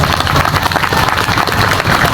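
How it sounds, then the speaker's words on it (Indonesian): Dense, continuous audience applause fills an indoor gathering at a Javanese religious and civic assembly, a loud steady wash of many hands clapping with no clear pauses. "tepuk tangan"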